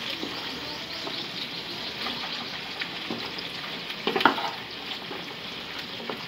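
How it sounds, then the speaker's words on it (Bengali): Shrimp fries lightly in a pan with a continuous moderate sizzle, a few soft stirring scrapes and a louder clatter near the end, no talking. "তার জন্য হালকা ভেজে শাকগুলো দিয়ে দিচ্ছি"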